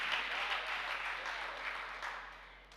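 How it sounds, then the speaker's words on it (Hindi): An audience at a Hindi sermon clapping in a sustained, fairly quiet patter of applause that fades slightly toward the end, with no speech over it. "ये ताली क्यों बजा रहे हो?"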